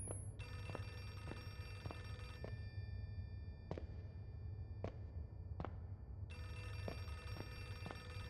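A telephone rings in the video game Outlast 2, with repeated bursts of bright bell ringing separated by short pauses over a low steady hum, with occasional sharp knocks and no talking.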